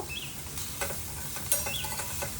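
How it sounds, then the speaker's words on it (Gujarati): Cabbage sambharo being stirred with a spoon in a pan over a low gas flame, soft repeated scraping strokes over a faint steady sizzle, close and quiet. "ગેસની એકદમ ધીમી ફ્લેમ પર આ રીતે ચમચાથી ચલાવતા રહેવાનું છે અને ફેરવતા રહેવાનું છે"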